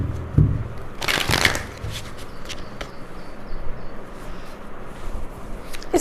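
Tarot cards riffle and slide in a brisk shuffle at close range, a dense burst early on followed by lighter flicks and taps as cards are drawn, against a soft steady background with no voice.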